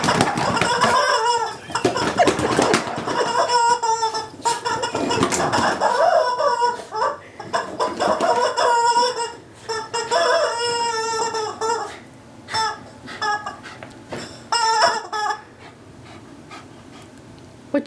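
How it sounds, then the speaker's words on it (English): Chickens clucking and squawking in a busy, overlapping stretch of calls, close and fairly loud, with a dog panting and scuffling among them and the calls thinning out toward the end. "Merrick, is that a good chicken?"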